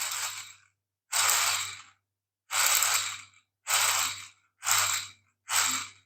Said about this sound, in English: So we have a working dynamo.